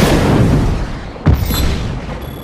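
In Just Cause 3, a satellite dish is blown apart with a single heavy boom that bursts out over a loud, roaring rumble of ongoing destruction, then fades back into the dense noise.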